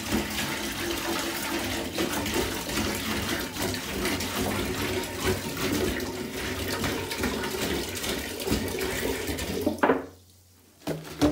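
Soda ash is dumped into warm water in a sink and swished around. The water churns loudly and steadily for about ten seconds, then cuts off abruptly with a brief splash at the end.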